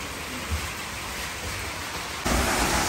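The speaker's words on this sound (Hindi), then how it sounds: "बड़ी ज़ोर की बरसात जो है ना स्टार्ट हो गई है मूसलाधार बारिश जिसे कहते हैं ना वो स्टार्ट हुई है" Heavy rain pouring down in a dense, steady hiss that suddenly grows louder near the end, with no voices.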